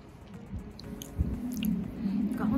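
Someone chews a bite of cake outdoors in a park, soft close mouth sounds with a low bite, over faint background noise.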